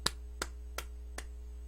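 A single person claps four sharp, evenly spaced times at close range, each clap crisp and isolated against a steady low electrical hum.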